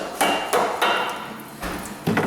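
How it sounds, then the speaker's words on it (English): Four sharp metallic hammer blows ring out at uneven intervals on a Subaru EJ25 engine part during timing belt and water pump work, close and loud, each with a brief clanging decay. "I think I need a hammer."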